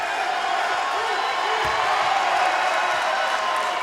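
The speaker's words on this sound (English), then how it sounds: "Listen to this crowd here at the Comerica Center in Frisco," A basketball arena crowd at the Comerica Center in Frisco, Texas, roars in a steady, distant wash of cheering at an NIT championship game, with a commentator talking over it.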